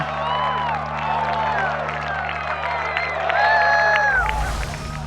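A golf gallery at the 2017 U.S. Amateur final roars after a putt, with sustained cheering, shouting and applause from many voices that swells near the end.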